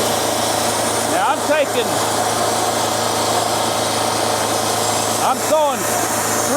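A Wood-Mizer sawmill motor runs steadily throughout with a constant mechanical drone while sawing hard, dry, dead white oak into 3/4 inch boards with water poured on, and two brief squealing bursts rise over it a few seconds apart.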